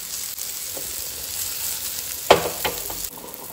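A prawn omelette frying in a pan over low gas gives a steady soft sizzle throughout, with a brief louder scrape or clatter partway through.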